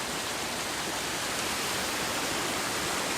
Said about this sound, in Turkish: Vaslat mezrasından gelen dere.